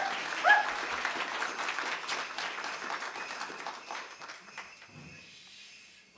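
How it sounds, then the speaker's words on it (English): At a library award ceremony honoring American Indian writers, the audience gives the drum singers a final round of applause, a dense patter that swells early and gradually tapers off toward the end. "Let's give our drum one more round of applause"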